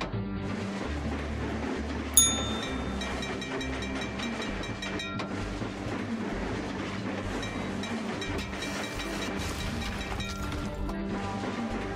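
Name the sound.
runaway train running in Trainz video game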